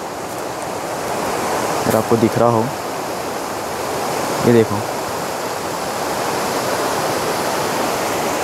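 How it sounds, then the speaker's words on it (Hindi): A river flows past a campsite in Kazakhstan as a loud, steady rush of water filling the whole scene, while someone speaks briefly over it. "ये देखो यहाँ पर नदी भी बह रही है"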